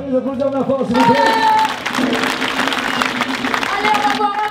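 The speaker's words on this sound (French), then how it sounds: "On peut les applaudir de la force, s'il vous plaît." An audience claps for young dancers, a dense burst of applause rising after a second and carrying on loudly to the end, mixed with crowd noise and a voice.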